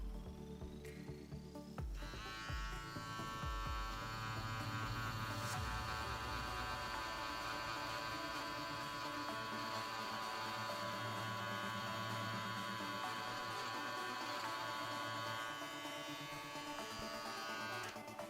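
Electric stitch remover buzzing as it strips out embroidery stitching, a continuous tonal hum that starts after a couple of seconds and holds steady and fairly quiet to the end, no voices.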